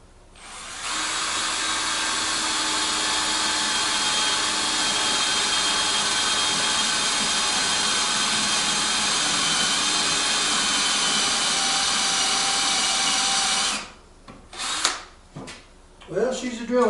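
A Craftsman 19.2V C3 cordless drill runs continuously at high speed for about thirteen seconds, a steady loud whine close up, then stops, followed by clatter and someone talking.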